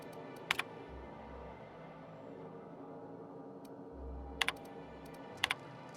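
Keys on a computer terminal in The Outer Worlds are tapped in two short bursts of quick clicks, quiet and alone against a faint low hum.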